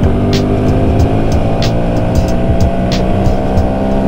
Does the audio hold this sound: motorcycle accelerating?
yes